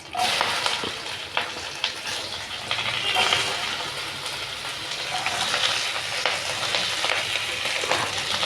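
Okra (bendakaya fry) sizzles in a pan, a steady busy crackle with occasional scrapes of stirring throughout, fairly close and moderate in volume.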